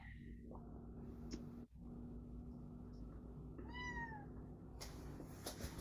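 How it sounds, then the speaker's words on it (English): A house cat meows a couple of times at moderate distance over a steady room hum, with a short clear call near the end and no speech. "Yeah, that's our cat."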